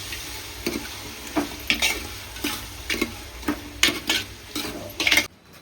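Chicken frying in a pan at home as it is stirred, with repeated scraping and clattering strokes over a steady sizzle, close and fairly loud, no talking.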